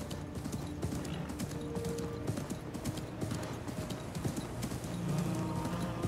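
Horse hooves clip-clopping at a steady trot in the Assassin's Creed Mirage game on PS4, rapid rhythmic hoofbeats with ambient game background and faint voice.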